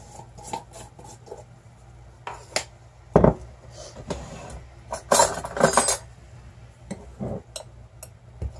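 Measuring spoons scoop cream of tartar for homemade bubble bath wands, with scattered light metallic clinks and scrapes, a few sharper knocks, fairly close and intermittent.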